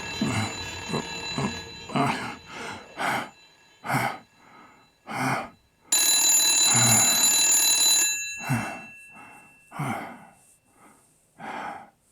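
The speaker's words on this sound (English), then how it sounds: "I hate the sound of phones ringing" A telephone rings in the video game Blacksad: Under The Skin, sounding as a bright electric bell in repeated bursts, with one long, loud ring near the middle, separated by quieter pauses.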